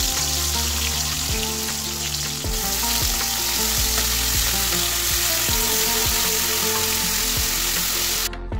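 Tomatoes, onions, green and dried chilies with salt crackle in hot oil in a wok, a loud, dense, continuous sizzle close up, with a steady mechanical hum running beneath and no voices.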